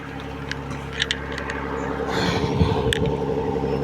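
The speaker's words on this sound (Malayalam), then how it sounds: "ബോട്ടിൻ്റെ സൗണ്ട് കേൾക്കുന്നുണ്ട്." A boat engine approaching on the Kumarakam backwaters, a low, steady droning rumble that grows louder toward the end, with scattered small clicks and knocks nearby.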